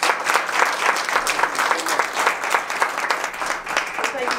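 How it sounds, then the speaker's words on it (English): Sustained audience applause at a community conversation on education, equity and access, welcoming a university president; dense steady clapping from a crowd, fairly loud and continuous throughout. "Ladies and gentlemen, another round of applause for the president of Chicago State University"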